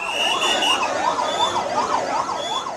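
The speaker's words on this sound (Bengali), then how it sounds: "একের পর এক দগ্ধ শিক্ষার্থীকে নিয়ে হাসপাতালে ছুটে আসছে অ্যাম্বুলেন্স" An ambulance siren wails loud and near as an ambulance rushes burned students to a burn and plastic surgery hospital after a plane crash. The siren rises and falls in a steady, repeating cycle throughout.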